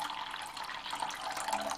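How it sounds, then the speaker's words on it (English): Tap water running steadily into a 2-cup measuring cup, filled only to the minimum line for an ultrasonic cleaner, a continuous close splashing hiss with no talk. "I'm going to only fill the water up to the minimum setting, or minimum line"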